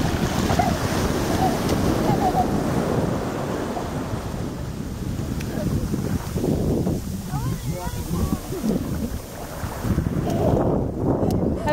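Ocean waves and wind roar steadily at a beach, a dense, loud wash of surf and microphone buffeting throughout, with people talking faintly beneath it.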